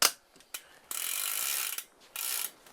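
Mountain bike chainring bolts being checked and tightened with a tool, giving ratcheting mechanical clicks: a few short ticks, then two sustained ratchet runs of a second or so, close and fairly quiet with no talking.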